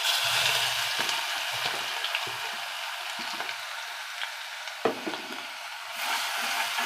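Ginger garlic paste fries in oil left from cooking onions, a soft steady sizzle close by with a few light stirring clinks and scrapes of a spoon against the pan.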